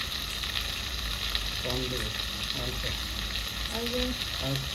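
Whole cumin seeds frying in hot oil, a constant close sizzle and crackle running throughout, with a few brief spoken words on top.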